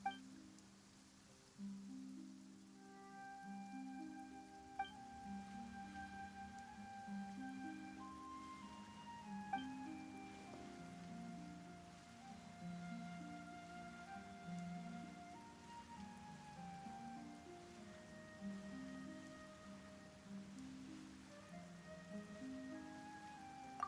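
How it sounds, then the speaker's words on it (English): Rain falls in the video game Genshin Impact, a soft steady patter under gentle melodic background music with sustained tones, fairly quiet and continuous for over twenty seconds. "Why is it raining all of a sudden?"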